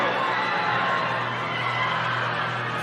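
A crowd on its feet roars steadily at an age-group swimming championship relay in New Zealand, a dense wash of cheering and shouting that holds loud and unbroken throughout.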